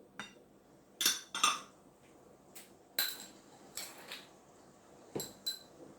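A utensil clinks against a bowl while oil, sugar, egg whites and salt are mixed for poğaça dough. A few quiet, scattered taps and scrapes sound close by, with no talk.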